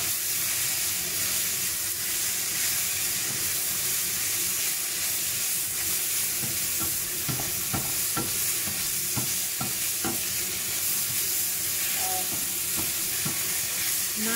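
Celery and tofu stir-fry sizzles steadily in a hot wok, with a constant frying hiss and occasional clacks of stirring near the pan, and no voices.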